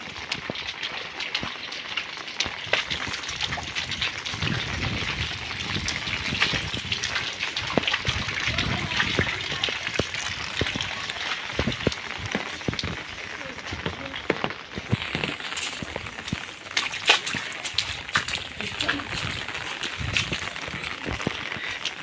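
Village river after rain, water rushing and splashing steadily in a broad, noisy flow close by, with scattered sharper splashes and voices talking intermittently over it.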